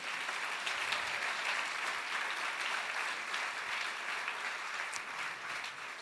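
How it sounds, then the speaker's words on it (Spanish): A church congregation claps loudly together, dense sustained applause filling the room for several seconds without a break. "Denle un aplauso fuerte a Él."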